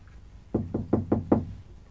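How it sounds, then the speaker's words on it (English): Five quick, evenly spaced knocks rap on a door, close and fairly loud against a quiet background. "Then knock louder now."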